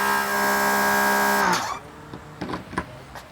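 A GreenWorks pressure washer running with a steady, loud harmonic whine that cuts off abruptly after about a second and a half, followed by scattered clicks and knocks.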